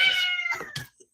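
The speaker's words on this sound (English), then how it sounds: "That's my kitty. He's a tabby cat." A tabby cat meows once, close and clear, a short drawn-out call followed by a faint softer trailing sound.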